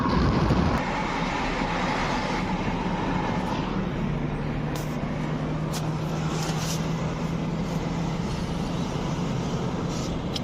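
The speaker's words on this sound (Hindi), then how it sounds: "गाड़ी का साउंड भी ठीक है, गाड़ी में कोई बैक कंप्रेशर नहीं है" A Mahindra TUV 300 engine running steadily after an overhaul, a continuous even drone with a faint steady hum throughout and no voices.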